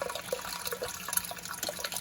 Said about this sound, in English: you can see I've got water flowing here